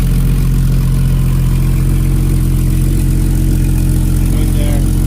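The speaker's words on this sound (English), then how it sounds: "We do have a leak in the exhaust now." A Jeep XJ engine with an exhaust leak idles close by, giving a steady, even low rumble with a faint whir on top and no talking.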